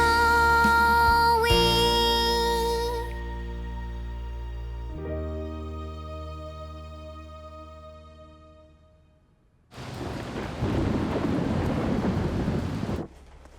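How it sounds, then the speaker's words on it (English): A thunderstorm rolls in with a long, deep rumble of thunder under sustained tonal music, then a burst of steady heavy rain or wind noise takes over for a few seconds before stopping abruptly. There is no talking. "Looks like a big storm is coming."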